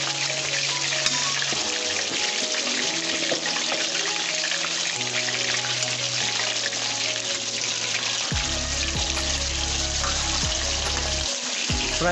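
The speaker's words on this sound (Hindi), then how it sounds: "जब ऑयल गर्म हो जाए तो इसमें अपने चिकन डाल देना है फ्राई के लिए।" Chicken pieces frying in hot oil for chicken karahi produce a loud, continuous sizzle, close and unbroken, with low droning tones running underneath.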